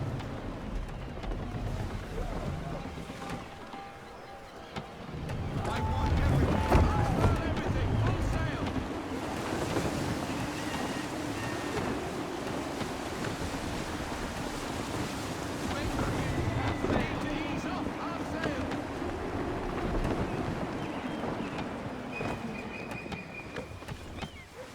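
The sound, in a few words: gusty wind and waves around a sailing ship, Assassin's Creed 3 video game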